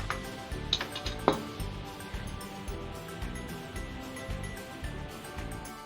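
Cake batter of flour and baking powder beaten by hand in a bowl, giving a steady run of soft rhythmic clinks and taps close by, with one sharper knock early on.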